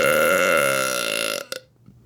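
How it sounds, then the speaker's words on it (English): A long, loud, drawn-out human burp with a steady pitched tone lasting over a second, cut off abruptly and followed by a couple of small trailing sounds and near silence, performed as a burping act. "I burped."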